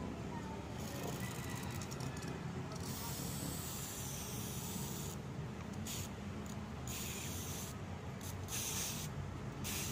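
An aerosol can of hair removal spray hisses in a continuous close spray, with brief gaps and bursts of louder hiss.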